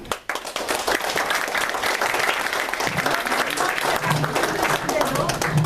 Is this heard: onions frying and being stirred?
no